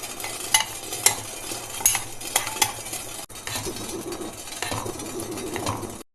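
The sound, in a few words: stirring Amul dark chocolate melting in a bowl over water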